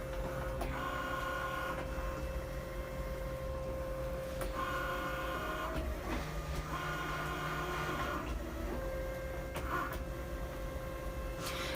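Cricut Maker cutting machine slicing through an acetate sheet, a steady mechanical whir with tonal motor hums that shift pitch as the carriage moves in bursts, close and continuous throughout with no talking.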